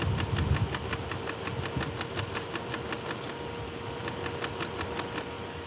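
A sewing machine stitches a denim jacket sleeve during an upcycling rework, a steady, close mechanical whirring with a rapid, regular ticking of the needle that runs continuously.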